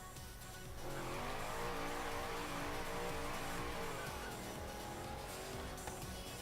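A hot rod with a skull on it driving in the video game Forza Horizon's Hot Wheels DLC, engine droning steadily and loudly after a brief quieter opening, with shifting revs throughout.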